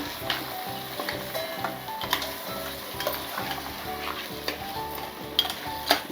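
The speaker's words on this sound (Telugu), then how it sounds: "ఇప్పుడు కలుపుకుందాం." Crab curry cooks in a pan as it is stirred, a close steady sizzle with repeated rhythmic scraping strokes and occasional clinks of the utensil against the pan, with no speech.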